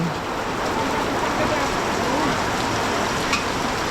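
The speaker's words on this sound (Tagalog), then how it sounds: "Oh, grabe naman tong ulan na to." Heavy rain pours down in a dense, loud, unbroken hiss, and a voice is faintly heard under the downpour.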